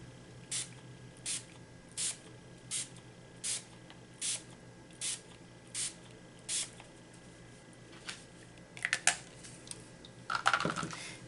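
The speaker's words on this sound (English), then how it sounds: "I'm just going to spritz a little bit of this blue alcohol spray" Blue alcohol spray by Bakers and Crafters is spritzed from a pump bottle, about ten short, evenly spaced hissing bursts, quiet and close, followed by faint handling clicks and rustles.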